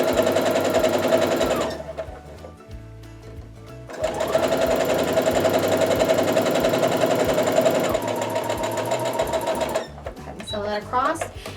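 A sewing machine stitches a quilt block seam on the bias in close, rapid whirring runs, pausing briefly between bursts, with a person talking over it.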